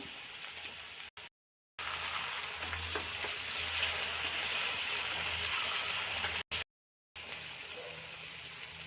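Potatoes with turmeric stirred in a hot pan for a garlic-chilli fry, giving a soft steady sizzle with faint scraping, broken by two brief silences.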